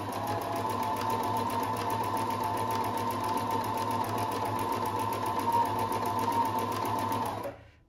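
A Husqvarna 330 electronic sewing machine runs a decorative stitch program, giving a steady, close whirring hum with a fast needle rhythm that continues evenly and then stops abruptly at the very end.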